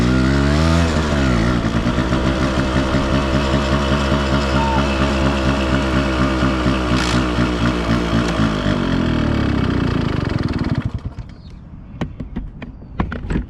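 A 25-year-old Yamaha RX135 two-stroke motorcycle is ridden hard, its loud buzzing engine climbing in pitch through repeated accelerations and gear changes before dropping off sharply near the end.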